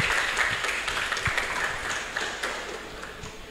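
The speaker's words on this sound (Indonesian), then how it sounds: "tepuk tangan lah sekali lagi lah" Audience applause in a hall at a talk on Indonesia's electronic information law, a dense steady wash of many hands clapping, loud and close, filling the whole stretch with no talking over it.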